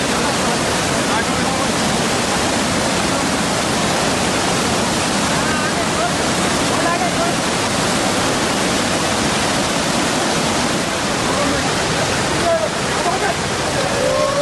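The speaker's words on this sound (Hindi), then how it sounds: "सड़क के ऊपर किस कदर सैलाब बह रहा है" Floodwater rushes over a city road during heavy rains in Hyderabad, a loud, continuous broadband roar like a waterfall that holds steady throughout with no breaks.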